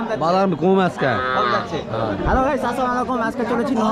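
Cows and calves at the Mahadebpur cattle market give drawn-out moos, close and loud, over continuous crowd chatter and people talking nearby.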